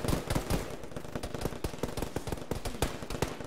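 Enemy gunfire in a ShackTac military game session, a fast, steady stream of sharp shots, some close and loud and others further off, with no voices over it.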